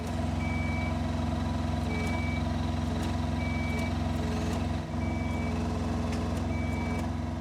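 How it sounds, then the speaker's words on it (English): A Maeda 285C spider crane sounds regular electronic warning beeps that its unit is not level, evenly spaced tones over a steady loud engine drone. "So the beeping you hear is that the unit is not level."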